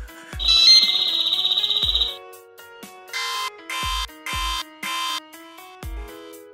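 A mobile phone ringtone plays a bright, warbling electronic melody, loud and close, followed by a short run of repeating tonal beeps.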